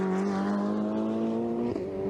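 Ferrari 488 Challenge race cars at the Hungaroring circuit, a loud sustained engine drone holding a steady pitch for about two seconds, with no talk over it.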